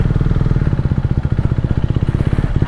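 A KTM Duke 390 motorcycle fitted with a Termignoni exhaust, its engine running with a rapid, throbbing pulse, loud and close, steady throughout with slight rises in pitch.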